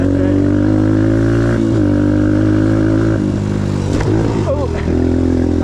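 A 2022 Suzuki DRZ125L dirt bike engine drones steadily at close range, then revs up briefly as the front wheel lifts, with a voice talking over it.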